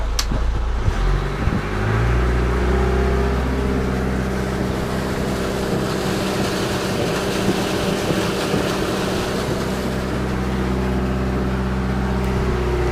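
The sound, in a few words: diesel boat engine revving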